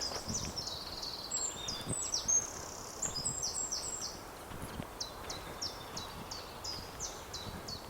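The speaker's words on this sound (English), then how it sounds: "listening to the birds" Birds chirping outdoors in repeated short high calls, with a soft background of rustling and insect-like hiss.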